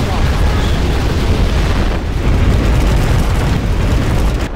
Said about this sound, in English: Overlord Gatling cannon.